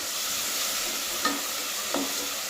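Ginger garlic paste frying in a pan, a continuous close sizzle broken by two brief scrapes of a spoon stirring it through.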